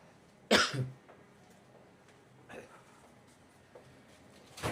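A man coughs hard after choking on water during a walk through Jerusalem's Old City, one sharp loud burst followed by a couple of smaller coughs and throat clearing, close to the microphone.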